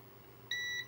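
A single high electronic beep from a continuity tester sounds for about a third of a second over a quiet background hum.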